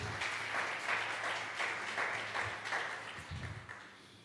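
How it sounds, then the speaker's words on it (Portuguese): A church congregation applauds, a moderate wash of clapping with rhythmic swells and a low hum underneath, fading toward the end. "Você pode aplaudir, Senhor?"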